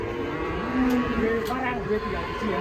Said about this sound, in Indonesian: Sapi 1 ton datang guys.